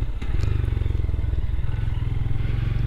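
Small Honda Grom motorcycle engine droning steadily and close at night, a continuous low buzzing thrum that labours as the bike climbs uphill, with no speech over it.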